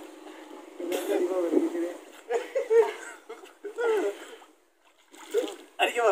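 People bathe and swim in new water of the Kaveri river near a village, splashing intermittently beneath lively talk and laughter from several voices.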